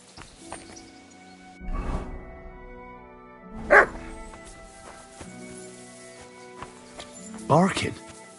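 In Kingdom Come: Deliverance II, a dog gives a few separate barks, sharp and fairly near, with gaps between them, over quiet game ambience and some low background tones.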